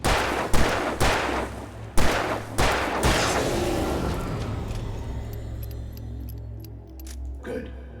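Revolver shots in the video game Alan Wake Remastered: several loud, sharp single cracks spaced about a second apart early on, each with a short reverberant tail, followed by lingering low rumble and a faint later pop.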